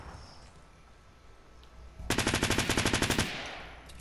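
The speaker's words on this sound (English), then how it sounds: "Oh, good shot." Gunfire in the Fortnite video game: after a quiet stretch, a loud automatic burst of about a dozen rapid, evenly spaced shots rattles off for roughly a second, then cuts off into a fading tail.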